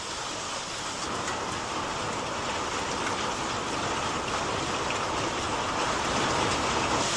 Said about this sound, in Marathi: दुसरीकडे पुणे जिल्ह्यामध्ये सुद्धा सर्वत्र मुसळधार पाऊस पडलेला आहे।